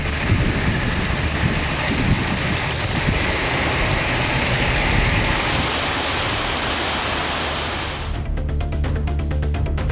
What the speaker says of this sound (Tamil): இடி மின்னலுடன் மழை பெய்தது.